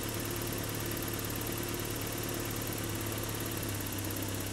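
A Toyota 22RE engine idles steadily during ignition timing adjustment, a continuous broadband hum with a low droning tone and no talk over it.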